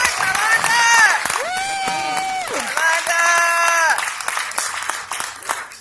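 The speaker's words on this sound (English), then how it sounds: "Let's bring Sister Karana out with a warm round of applause" A crowd at a Kwanzaa Ujamaa celebration gives a warm round of applause and cheers as a speaker comes out, with sustained voiced whoops and shouts riding over steady clapping before it thins toward the end.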